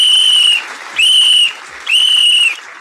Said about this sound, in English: Yes, I'm going to blow the whistle.